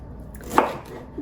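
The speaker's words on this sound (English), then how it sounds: "I'm just going to chop my pineapple here as well as the mango into small bite-sized pieces" A single knife chop through fresh pineapple and mango on a cutting board, one sharp close cut in an otherwise quiet kitchen, with a faint knock near the end.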